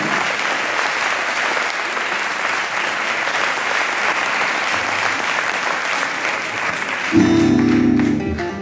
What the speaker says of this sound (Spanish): Otro aplauso mientras se coloca.